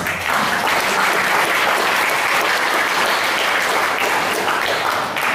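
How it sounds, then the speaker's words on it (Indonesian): A talk-show audience applauds steadily and loudly for several seconds, a dense wash of clapping from many hands with no pause. "Tepuk tangan lagi dong"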